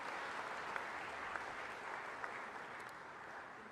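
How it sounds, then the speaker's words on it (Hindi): Faint, distant applause from a crowd at a hockey felicitation event welcoming Shivendra, a continuous soft wash of clapping with a few sharper individual claps, fading slightly at the end. "एक बार शिवेंद्र जी का भी ताली बजा के स्वागत कीजिए।"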